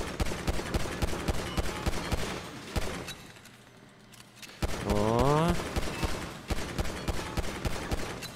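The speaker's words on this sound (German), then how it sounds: "Ich weiß nicht, warum man hier so oft drauf schießen muss." Rapid bursts of gunfire in GTA V's LSPDFR police mode during a gang-area call, dense and loud for several seconds, a brief lull, then a rising whine over the shooting before the volley resumes.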